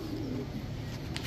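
A male and female pair of Indian Rampuri pigeons coo softly in a brief, low burble, heard close by with no talk over it.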